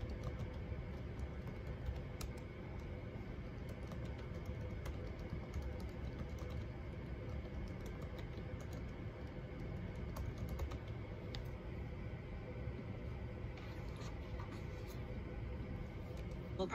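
Continuous typing on a computer keyboard while taking notes, a steady patter of key clicks over a low background hum, moderately close and unbroken.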